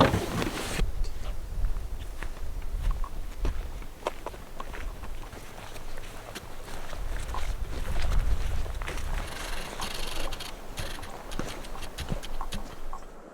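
Footsteps crunch steadily along an outdoor path toward a hunting stand at first light in Alabama, a continuous walking rhythm with light wind noise and no talk.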